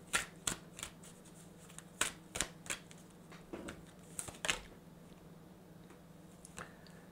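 Crisp rustling and snapping of oracle cards being shuffled, in uneven bursts that fade toward the end, close up with no talking.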